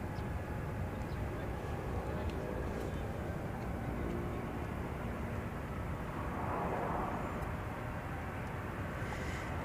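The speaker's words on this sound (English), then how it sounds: "There's American 1173. It's a 737-800 going to Austin," American Airlines Boeing 737-800 jet departing an airport, a steady broad distant roar of engines holding at an even level, faint and continuous with no clear rise or fade.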